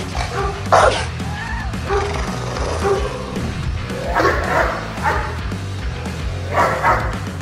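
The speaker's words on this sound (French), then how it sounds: "Voici à quoi ressemble une véritable attaque d'un Doberman." A Doberman barking in bursts during an attack, loud and close, with harsh repeated barks and yips over a busy noisy background.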